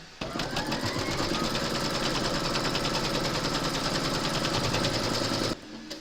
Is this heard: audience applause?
no